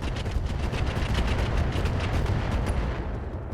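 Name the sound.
mech firing rockets in video game RogueTech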